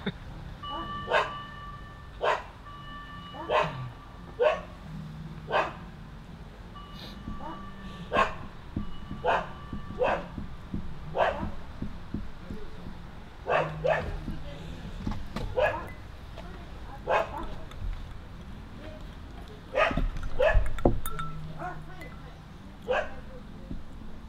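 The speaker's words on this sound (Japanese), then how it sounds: "めっちゃ吠えてる" A dog barks repeatedly in sharp, separate yaps spread through the whole stretch, fairly near, with quieter gaps between them and people talking in the background.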